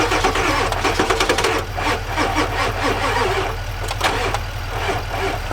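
The 7.3 diesel engine in an OBS Ford truck cranks over with a fast, rhythmic mechanical churn. It stays loud and close throughout and never catches and settles into a run.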